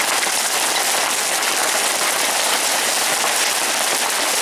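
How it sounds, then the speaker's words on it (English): Hail pounds a house during a sudden spring hailstorm in Carson City, a dense, constant roar of countless hard pellets striking roof and ground, loud and unbroken with no voices. "Oh, hail's coming in the house. Holy crap. And listen to that stuff hitting."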